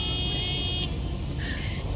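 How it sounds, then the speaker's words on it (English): A car horn sounds in the video game Lake: a steady held tone for about a second, then a shorter, lower honk, set against a constant background hum. "Can you honk at them?"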